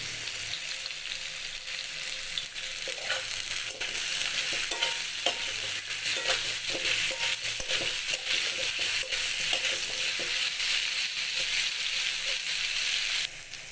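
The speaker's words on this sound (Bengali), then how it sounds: "আলুগুলো দু মিনিট ভেজে নিয়েছি এবার দিয়ে দিচ্ছি গাজর আর বিট" Potatoes, carrots, beetroot and pointed gourd sizzle and fry steadily in a pan, with occasional stirring scrapes, close and continuous with no talking.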